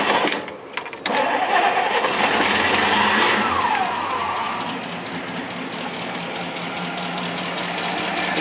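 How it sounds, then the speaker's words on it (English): A car engine with dual stainless exhaust cranks over and catches, then settles into a steady idle, the engine close and fairly loud throughout after a brief rattle at the start. "let's give her a quick start up."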